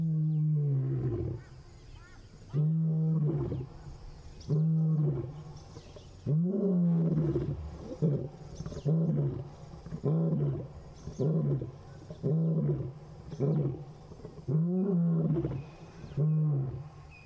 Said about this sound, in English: So that's our male lion telling everybody this is my territory. So he's roaring to tell them all and also to contact his coalition members.